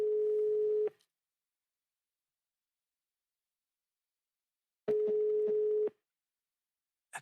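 A telephone call's tone: two steady electronic beeps about a second long, separated by roughly four seconds of silence, with a brief third onset at the end; no one speaks.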